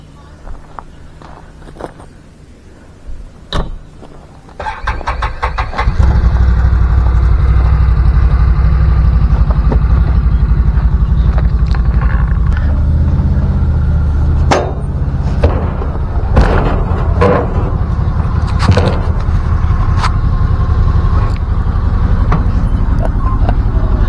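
Can-Am 6x6 off-road vehicle with a brief quiet stretch of clicks and knocks, then the engine starts and runs with a loud, steady low rumble, scattered clacks and thumps over it.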